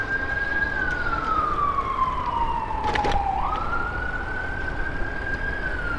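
An emergency vehicle siren on Rock Creek Parkway in Georgetown, a loud continuous wail that slowly falls in pitch, then swings back up and holds, heard over steady traffic rumble.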